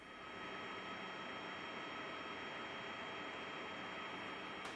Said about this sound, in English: the plane there touches down on the runway